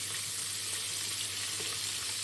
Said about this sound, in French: on continue à faire cuire nos boulettes comme ça